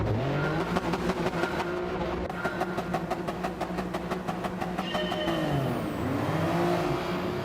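Race cars launching off the grid at a race start in Gran Turismo 7, several engines rising through the revs together, with rapid shifts and a steady roar, loud and close with no talk.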